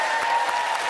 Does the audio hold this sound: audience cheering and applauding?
yes